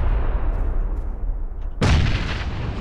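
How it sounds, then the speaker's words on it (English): A rumbling grenade blast in PUBG, a combat game. Low ambient rumble comes first, then a sudden loud explosion bursts in partway through and leaves a noisy tail. "that's a grenade"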